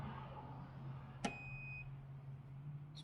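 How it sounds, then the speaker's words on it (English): After activation through the ChargePoint app, an EV charging station gives a single brief electronic beep with a clean ringing tone over a steady low hum, fairly quiet. "It's beeping, that's a good sign."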